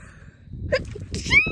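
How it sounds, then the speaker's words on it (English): A single sneeze bursts out near the end, close and fairly loud, after some quiet breathing. "I'm gonna sneeze."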